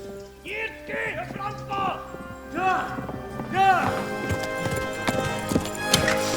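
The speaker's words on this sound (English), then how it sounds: "Gallop away!" A horse in the medieval video game Kingdom Come: Deliverance gallops with a quick rhythmic hoofbeat close by, mixed with a neigh-like cry, harness clatter and game sounds, while a voice speaks over it.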